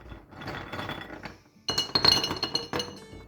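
Gumballs poured into a glass for a candle, bursts of close, bright clinking and rattling as the hard candies tumble and knock against the glass, louder in the second half.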